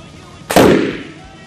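A compressed-air-filled 2-liter plastic bottle bursts after being hit by a pellet from a Beeman break-barrel pellet gun, making a single sharp, loud bang that decays over about half a second.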